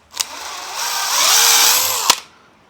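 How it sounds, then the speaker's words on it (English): A power drill whirs steadily boring holes into a wooden workbench, its pitch rising slightly under load, with sharp clicks at the start and end. "start drilling these holes."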